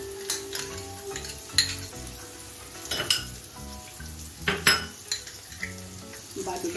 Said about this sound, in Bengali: কাজুটাকে 30 সেকেন্ডের মতো একটু কষিয়ে নিচ্ছি।